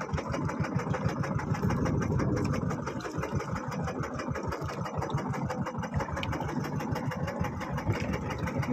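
A boat engine runs steadily on a river with strong current and waves, a loud continuous throbbing drone with a rapid pulsing rhythm, close by and without talk.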